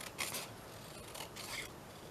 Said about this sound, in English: Let's just cut around this.